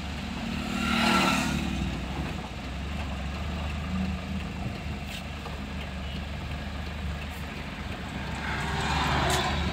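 A Tata Ace Gold BS6 mini truck engine that will not rev with the accelerator pressed fully, a steady low drone that swells only slightly and then settles, heard close with no talking.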